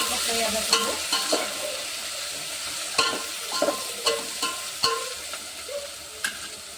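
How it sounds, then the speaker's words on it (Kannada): Chicken frying in a pan, a steady sizzle broken by repeated sharp scrapes and clacks of stirring that come at an irregular pace, heard up close with no talk. "fry ಆಗಬೇಕ್ರಿ fry ಆಗ್ಬೇಕ್ರಿ"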